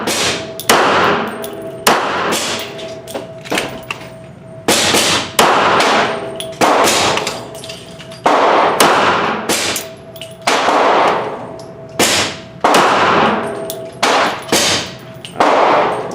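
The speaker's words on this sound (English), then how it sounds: "next up I'll be shooting the Federal Game Shock 50 grain hollow points, 5 shots" Kel-Tec PMR-30 pistol firing Federal Game Shock 50 grain hollow point rounds, a series of loud, sharp shots, close by and spaced irregularly with ringing decays, with no talking.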